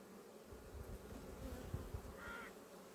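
Bees buzzing around a hive, a faint, steady insect drone with a few brief louder passes, heard close by.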